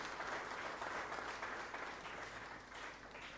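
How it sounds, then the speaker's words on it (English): Audience applause at a transporters' press briefing, welcoming a barrister to the forum: a steady, dense wash of clapping from a moderately sized crowd, heard at a distance and holding an even level throughout. "Please, a hand of applause"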